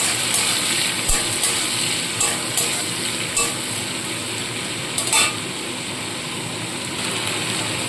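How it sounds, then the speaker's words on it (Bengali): Shrimp frying lightly in hot oil for a Bengali shukto gives a steady, fairly loud sizzle with a few sharp clicks and pops scattered through it. No one speaks. "তেল গরম হয়ে গেছে এবার চিংড়ি মাছটা ভেজে তুলে নেবো খুব বেশি ভাজবো না হালকাভাবে ভেজে নিতে হবে"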